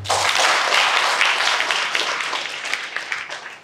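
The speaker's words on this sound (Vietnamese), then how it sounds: "thầy xin một tràng pháo tay" Audience applause fills a Vietnamese business-school lecture hall, a dense burst of clapping that starts loud and gradually thins out over a few seconds.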